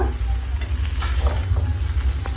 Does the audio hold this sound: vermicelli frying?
yes